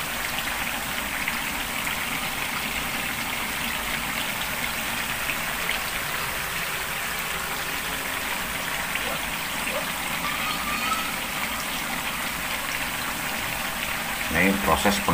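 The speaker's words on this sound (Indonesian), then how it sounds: "Jadi kentang tadi yang sudah direndam kemudian ditiriskan, langsung digoreng seperti ini ya." Drained soaked potato slices sizzle in hot deep-frying oil, a dense steady hiss and crackle like heavy rain heard up close, with a brief clatter at the end.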